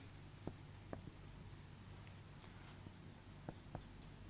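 A pen or marker taps and scratches on a board during a mathematics lecture, with a few faint, sparse strokes over a quiet room hum.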